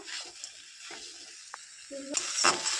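A spoon stirs cabbage curry with sugar in a pan, with soft scraping strokes over a faint sizzle and a brief clink, growing livelier toward the end.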